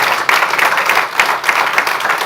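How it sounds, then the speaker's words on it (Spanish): A church congregation at a Spanish-language service applauds loudly and steadily, a dense wash of many hands clapping together that holds at full strength throughout. "Dele fuerte el aplauso a Jesús."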